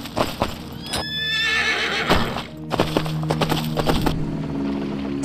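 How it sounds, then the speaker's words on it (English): Horse whinnies and clip-clopping hooves from Skyrim with a sound-upgrade mod, a loud close neigh over busy hoof beats and ambient game noise, with no talking. "You don't hear the sounds associated with horses very often, but they are an important part of Skyrim."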